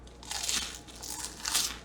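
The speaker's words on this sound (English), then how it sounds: "Y'all hear that crunch?" Crunchy bites into loaded nachos topped with pork rind, several close, loud crackling crunches in quick succession with no talking.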